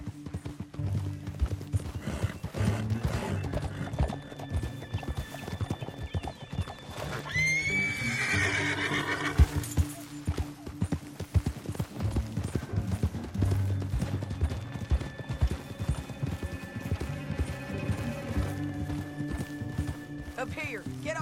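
Horses galloping and neighing in Red Dead Redemption 2: constant rapid hoofbeats with loud whinnies rising around the middle, under talking voices and a game soundtrack, with occasional gunfire.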